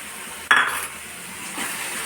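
A wet spice paste is tipped into frying masala in a pan. A sudden sharp burst of sizzling rises from a low background hiss, fades quickly, then a softer sizzle returns.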